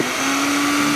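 A hair dryer running on high, a steady, loud whooshing motor drone with a constant hum, used to warm and loosen the joints of a 6-inch Marvel Legends Spider-Man action figure.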